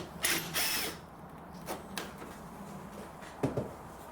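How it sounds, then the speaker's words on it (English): A ratchet loosening and removing 8mm bolts on a 2013 Vauxhall Astra 1.6 engine during serpentine belt replacement, with a few short clicking bursts spaced out over quiet workshop background. "Now we have three 8mm bolts. Just go ahead and remove those."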